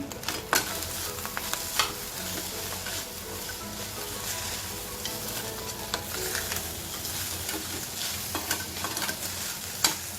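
Chitranna rice with grated fresh coconut and coriander sautéing in a pan, a steady close sizzle broken by repeated scraping stirs of a spoon, with no voices.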